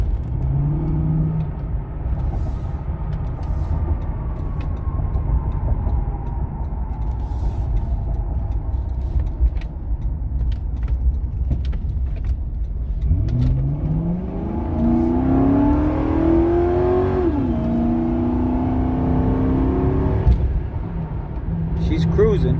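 A 2009 Ford Crown Victoria P71 police-package sedan with 157k miles accelerates on the road, its engine note rising steadily under a constant low cabin rumble while someone talks over it.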